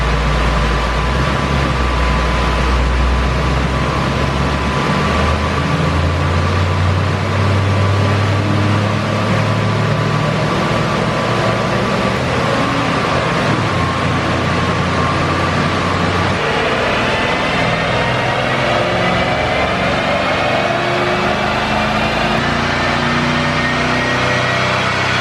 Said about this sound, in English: E63S full throttle acceleration inside.